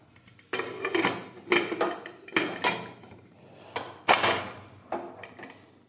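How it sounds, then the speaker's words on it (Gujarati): A series of sharp metallic clanks and knocks, about seven in irregular succession, as a cooker lid is handled and shut nearby in a quiet kitchen. "હવે આપણે કુકર ઢાંકણ છે તે બંધ કરી દઈશું"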